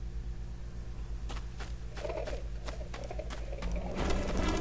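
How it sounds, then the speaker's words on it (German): Pigeons coo in the video game Fragile Dreams: soft repeated throaty calls in short pulses over a steady low ambient hum, moderately loud and growing slightly busier toward the end. "Gebt Ruhe, doofen Tauben"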